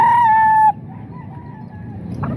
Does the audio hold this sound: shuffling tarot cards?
no